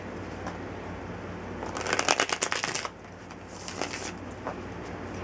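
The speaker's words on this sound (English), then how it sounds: "I'm going ahead and getting started with shuffling the cards." A gilded tarot card deck being shuffled close by, with a dense riffling burst in the middle and a softer second run of shuffling after a pause.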